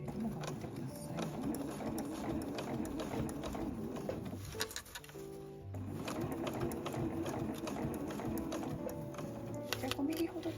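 Home sewing machine stitching heavy canvas for a zippered tote bag, a close rapid mechanical chatter running steadily with a brief pause in the middle while the fabric is shifted, then resuming.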